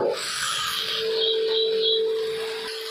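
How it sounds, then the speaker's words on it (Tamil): Onions and salt are stirred in a pan on the stove, giving a continuous close scraping and rubbing sound with a faint steady hiss behind it. "நல்லா வதக்கி விட்டுக்கலாம்."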